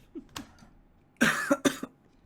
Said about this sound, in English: Cough in the other direction.